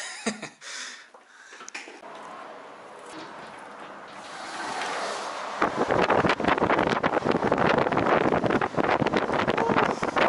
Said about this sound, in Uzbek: Shamol, shamol.